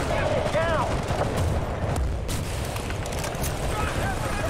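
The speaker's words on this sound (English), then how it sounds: "Artillery." Artillery fire in a Call of Duty video game: a dense, loud, continuous barrage of booms and gunfire rumbling throughout, with a voice talking over it.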